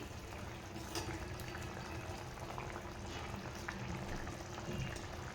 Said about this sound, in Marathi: तर कालवणाला छान उकळ आलेली आहे.